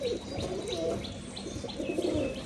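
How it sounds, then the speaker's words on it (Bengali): Pigeons at a color-matched pigeon farm in Rajshahi coo softly up close, with repeated short chirps and a faint flutter of wings in the background. "এই একটা পায়রা দেখুন"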